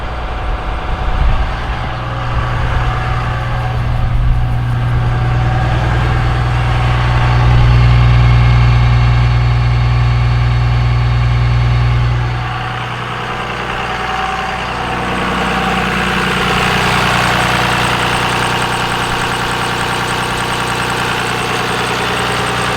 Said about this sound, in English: there's a high idle right there, just kicked on. Right around 1300 RPM.